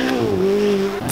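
A Ferrari 458 Italia engine revs loudly and steadily, with a strong sustained engine tone that holds its pitch for about a second before easing off.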